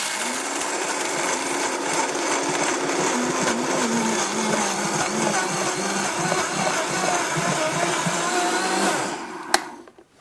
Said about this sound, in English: So this is the almonds in the Vitamix, and you're going to see how fast this is